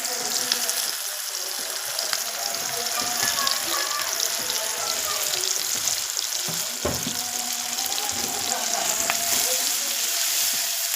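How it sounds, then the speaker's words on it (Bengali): Onions frying in hot oil in a pan until browned, a steady crackling sizzle with occasional stirring scrapes and clinks, fairly close and continuous. "এবারে আমি পেঁয়াজগুলো লাল করে নেব।"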